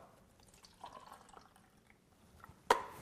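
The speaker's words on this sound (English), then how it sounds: "when we pour the water out" Water poured out of a container after washing lemons: soft, sparse trickles and drips at first, then a sudden louder splash and rush of pouring near the end, fairly close.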